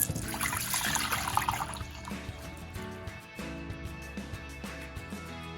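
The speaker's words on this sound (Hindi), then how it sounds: "और अब हम ये दूध बाउल में डालने लगेंगे" Warm milk pours into a bowl for homemade yogurt, a splashing trickle that is fuller at first and then thins to lighter dribbles and drips, close and without voices.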